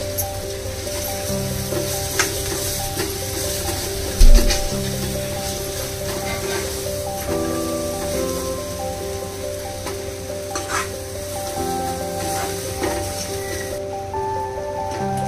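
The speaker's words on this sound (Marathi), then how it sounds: "आणि सगळं आता टाकून मिक्स करते, चांगला परतून घ्यायचं" Masala for a spicy prawn curry sizzles steadily in a hot pan as it is stirred and sautéed, a continuous crackling hiss with occasional louder spatters and a soft musical backing throughout.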